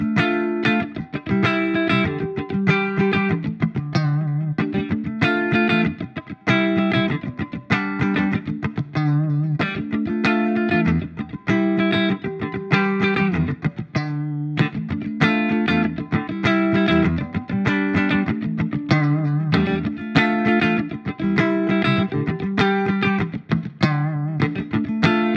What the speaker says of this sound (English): when you push that in, the single coil sounds on this, you can get some really nice spanky Strat style tones out of it